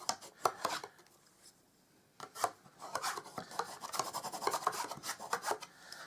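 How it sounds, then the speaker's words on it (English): A bone folder presses and rubs down creases on a card gift box, giving quiet, close scraping and rubbing strokes in short bursts with a brief lull between them. "Get the bone folder, give that a nice push down and into your corners."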